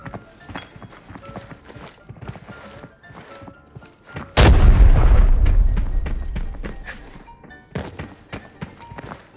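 Gunfire in the shooter game Arena Breakout: one loud, close blast with a long, fading tail, set among scattered softer thumps and clicks.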